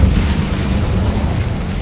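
A loud, rumbling whoosh of the Incendio fire spell bursts forth in Hogwarts Legacy, sustained and booming low throughout with no voices.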